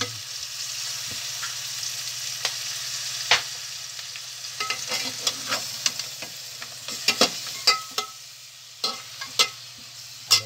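Chicken feet and dried fish are stirred in a hot pan, giving a steady low sizzle broken by scattered scraping knocks and clinks of the utensil that grow busier toward the end.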